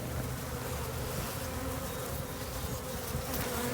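Honey bees buzz around a beehive in a dense, steady drone of many insects, close and continuous throughout with no voices.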